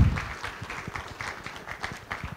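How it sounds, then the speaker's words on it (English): Audience applause at the 9th SADC multi-stakeholder Water, Energy, Food Nexus dialogue conference, a moderate steady patter of clapping from a hall crowd, fairly distant and even throughout. "A round of applause for the youth."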